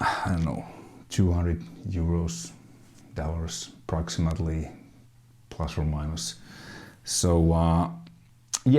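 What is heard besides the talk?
No everyday noise stands out behind the speech.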